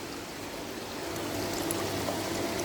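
Water flows and splashes steadily into a tank, a continuous rushing pour that grows slightly louder.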